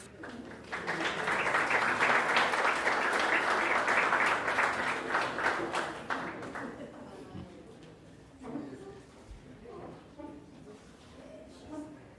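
Loud, sustained crowd applause fills an indoor hall at the Blue Flag and Green Coast awards ceremony, then fades after about six seconds into scattered claps and murmuring talk.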